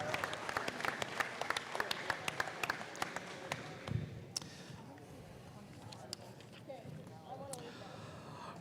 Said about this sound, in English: One way big round of applause